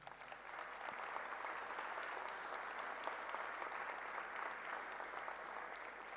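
Steady applause from an audience at a university anniversary academic ceremony, honouring the rector, sustained and even throughout, fairly distant and soft.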